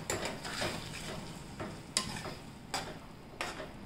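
Onion and tomato gravy goes into corn cooking in a pan, giving a low, faint sizzle with several separate clicks and scrapes of a spoon against the pan, spaced a second or so apart, with no talking.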